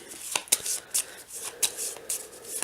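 Quick riffling and snapping of Star Realms game cards being shuffled close up, in several short bursts with light clicks between them.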